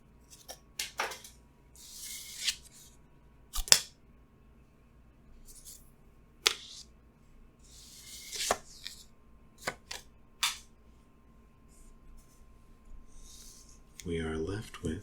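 Paper being snipped with scissors to free a cut-out pentagon, with intermittent short crisp cuts and rustles spread across a quiet room, close and soft, ending in a brief rustle of handled paper.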